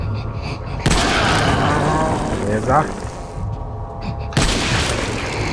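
Gunfire in the survival-horror video game Resident Evil 4, a couple of heavy booming shots with long reverberant tails over game ambience, and someone speaking briefly.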